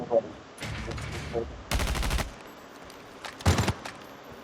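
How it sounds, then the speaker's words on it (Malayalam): Bursts of rapid gunfire crackle in a battle royale video game, with a long automatic volley in the middle and a shorter one near the end, amid quieter background noise. "അപ്പോൾ ഗെയിമിന്റെ വെടി ഒച്ചകളൊക്കെ കുറയും"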